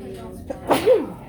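One sharp sneeze indoors in a quiet room, a brief inhale followed by a loud burst close to the listener, with faint talk before it.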